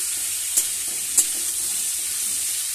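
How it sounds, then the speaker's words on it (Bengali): Pumpkin pieces fry in hot oil with a steady, even sizzle, stirred now and then with a spatula that gives two short scraping knocks against the pan. "এইগুলো কুমড়োগুলো একটু লাল লাল করে ভালো করে ভেজে নেব। তো মাঝে মাঝে আমি খুন্তি দিয়ে নেড়ে নেড়ে দিচ্ছি।"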